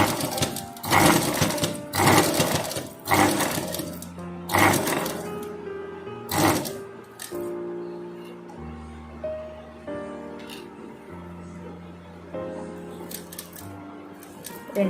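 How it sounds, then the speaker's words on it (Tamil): A standard domestic sewing machine stitches a blouse buttonhole in short bursts of rapid, whirring needle strokes separated by pauses, close and loud, with faint tonal hum in the gaps. "ஏன்னா நம்ம மிஷினில் வந்து ஸ்டிச் பண்ணுறோம்"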